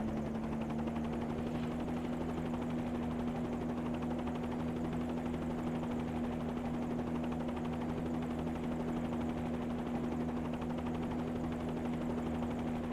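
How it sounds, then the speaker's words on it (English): Steady, continuous drone of a Bell 47G helicopter's six-cylinder piston engine in a flight simulator game, with a strong low hum and unchanging rotor buzz, loud and close throughout with no talking. "So this is the Bell 47. It is running a 6-cylinder engine, piston engine."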